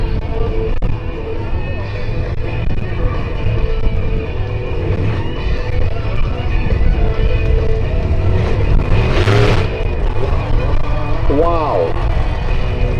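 A monster truck at the Geelong Show 2023 revs hard as it tries to tip up onto its front wheels for a nose wheelie. Its loud, steady engine roar carries over a crowd, with one sharp engine swell partway through.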